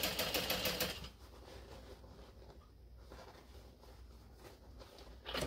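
A sewing machine runs steadily while topstitching a flat seam on a fabric bucket bag, a close, even mechanical whir that is louder in the first second and then continues more softly.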